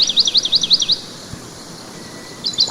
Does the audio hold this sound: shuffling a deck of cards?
no